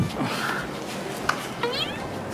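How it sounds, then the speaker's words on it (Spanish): A rooftop cat meowing, a few drawn-out cries close by amid outdoor background noise and people talking. "Es un gato techero"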